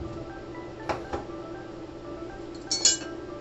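A pot of vegetable soup being stirred over low heat, with a few sharp clinks of a utensil against the pot rim, first two close together and then a brighter cluster near the end, over a quiet kitchen background.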